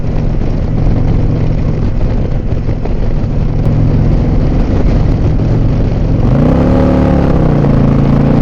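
An Indian motorcycle fitted with a stage 2 kit pulls hard to pass, its loud, steady engine drone rising in pitch as the throttle opens near the end.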